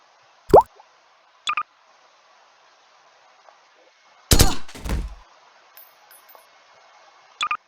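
Suppressed AK-47 firing in Garry's Mod with Modern Warfare weapons: a handful of separate muffled shots, one heavier burst in the middle trailing into a short tail, with quiet gaps between.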